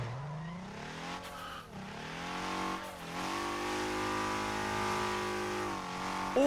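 A car drifting in the racing game Torque Drift 2, its engine revving up and down through gear changes while tires squeal and skid, heard fairly close and steady with brief pitch dips between shifts.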